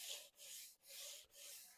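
A sanding block is pushed by hand along the grain of a wooden dining table in four even back-and-forth strokes, soft rasping and close, with no talk.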